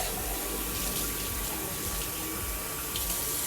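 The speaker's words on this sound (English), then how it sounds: "I do that with the water, one, because it adds a little extra moisture in there, but two, cleans the can out" Water runs steadily from a tap into an empty tin bean can being rinsed out in a home kitchen while cooking chili, a constant close rushing splash with no pauses.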